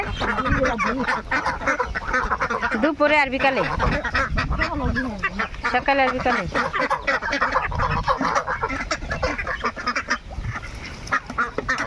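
A flock of farm-raised domestic ducks quacks continuously close by, with bursts of honking calls rising and falling as someone speaks about their feeding between the calls.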